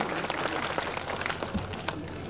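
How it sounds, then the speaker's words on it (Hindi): Audience applause at a school prize distribution on Republic Day: a steady wash of dense clapping from a crowd that holds at an even level for the whole stretch, with no clear voices over it. "जोरदार तालियां इस बच्ची के लिए"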